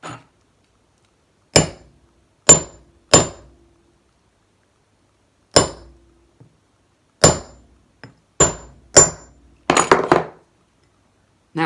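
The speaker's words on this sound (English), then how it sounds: "now we're just going to punch the hole" Sparse metallic hammer blows on a punch driven through a needle on an anvil, single sharp clinks spaced by pauses, then a quick cluster of strikes near the end; close, no speech.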